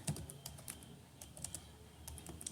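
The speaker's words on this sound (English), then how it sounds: "Create database, let me type in the name" Fingers type a database name on a computer keyboard, producing a quiet, uneven run of crisp key clicks with short pauses between them.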